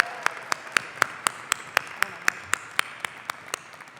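Sharp, evenly spaced claps ring out one at a time in a steady rhythm, a small clapping of hands at a graduation ceremony over faint room background.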